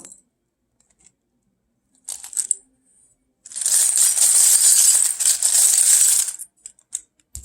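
Oracle cards being shuffled during a Sagittarius reading: a brief riffle, then about three seconds of steady, dense papery shuffling that stops abruptly, with no voice.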